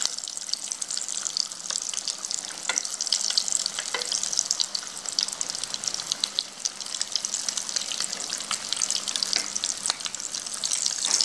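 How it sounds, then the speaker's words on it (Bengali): Potato snack shallow-frying in oil in a pan, a steady, fairly loud crackling sizzle that runs unbroken throughout, with a few sharper pops and spatters and no talking. "এখন নিচটা ভাজার জন্য আমাকে অপেক্ষা করতে হবে"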